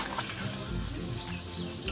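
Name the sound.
vegetables frying with spice paste in a pan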